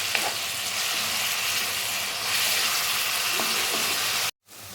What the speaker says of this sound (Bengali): পেঁয়াজটা আমি তেলের সঙ্গে একটু ভেজে নিচ্ছি